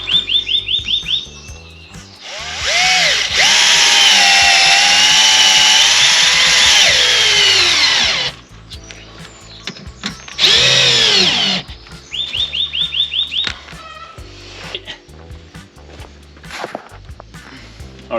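Power drill driving screws into aluminium while mounting a PV system in a camper van, loud sustained whirring bursts with pitch shifts between about 2.5 and 8 seconds and again near 10 to 12 seconds, with clicks and clatter between.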